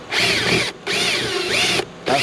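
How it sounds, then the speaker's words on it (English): Power drill run in reverse while drilling out a mounting hole on a PT Cruiser during a wind deflector install, three loud whining bursts separated by short pauses, close up with no talking. "Let's drill it out."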